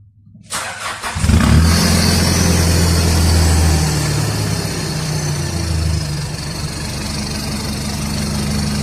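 Nissan Navara NP300 pickup with an offroad setup and a new exhaust fires up after a short quiet moment, then holds a loud, deep, steady rumble close by with slight rises in revs, no voices.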